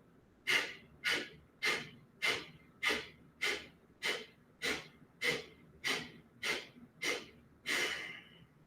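Deep rhythmic breathing during yoga practice, about a dozen even breaths at a slow steady pace, close and fairly soft, with a longer final exhale.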